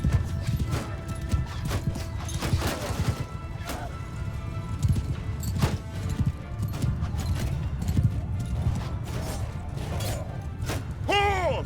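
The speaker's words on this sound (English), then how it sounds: "Come on, horse, get up there." Horse hooves in the video game Mount & Blade II Bannerlord: a dense clatter of galloping cavalry in a battle, with crashes, thuds and a whinny near the end, loud and continuous.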